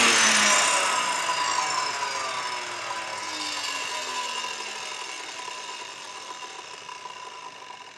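A saw finishes cutting through a wooden beam: a loud rasping burst at the start that fades into a long, gradually quieter ringing drone, heard alone without speech.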